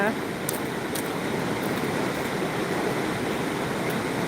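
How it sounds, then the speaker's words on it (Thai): Waterfall along a hiking trail in Switzerland, a steady broadband rush of falling water filling the scene at even loudness, with a few faint clicks and no pause. "น้ำตกสวยมากค่ะ"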